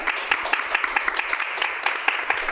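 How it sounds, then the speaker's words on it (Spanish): An audience claps briefly at a Spanish-language lecture event, a thin spatter of applause lasting a couple of seconds. "Vamos a darle otro aplauso."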